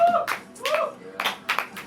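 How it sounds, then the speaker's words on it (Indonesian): A studio audience claps briefly for a guest on a music talk show, a few scattered bursts of hand claps mixed with voices talking between them. "Tepuk tangan dulu untuk Mas Novi."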